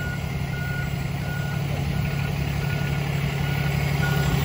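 A truck reverses into an alley dock, its engine idling steadily throughout. The regular beep of a backup alarm repeats faintly over the rumble.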